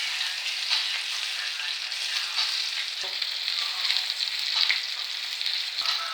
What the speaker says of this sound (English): that's how I flour and fry my Banga Mary